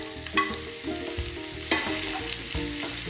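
Chopped onions and green chilies sauté in a pan for a sweet potato cutlet, a steady sizzle broken by a few sharp clinks and scrapes of stirring, close and alone without talk.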